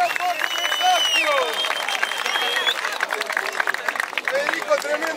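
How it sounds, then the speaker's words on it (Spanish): A live crowd at a rap show applauds and cheers for a rapper, dense, continuous clapping mixed with shouts and whistles and the babble of many voices throughout. "¡Un aplauso"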